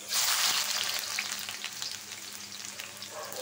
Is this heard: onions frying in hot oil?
yes